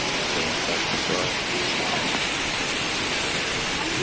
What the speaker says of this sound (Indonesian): Hujan deras, terus angin yang begitu kencang.